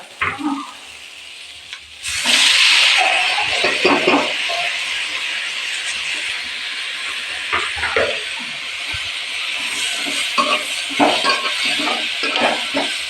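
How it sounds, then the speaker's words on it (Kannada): Tomatoes are tipped into browning onions frying in oil and stirred through the pan, with a steady hiss and sizzle, scraping stir strokes and clatter running throughout at close range. "ಟೊಮೆಟೊನ ಹಾಕಿ ನೀಟಾಗಿ ಮಿಕ್ಸ್ ಮಾಡಿ"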